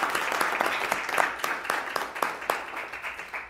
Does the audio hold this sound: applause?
yes